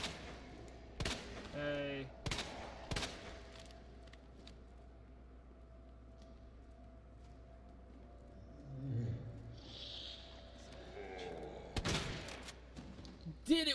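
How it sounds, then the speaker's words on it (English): Shotgun fire aimed at zombies in Resident Evil 2, several sharp loud blasts spaced apart with quieter game ambience and brief groans between; a voice speaks once. "Didn't want to use the shotgun on a zombie, but I don't think I had a choice."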